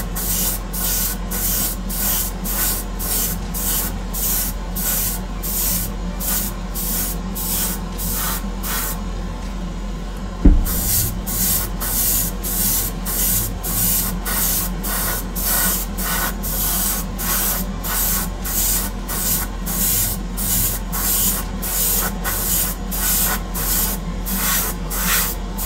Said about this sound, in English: it does still take a reasonable amount of skill even just to blast paint on like this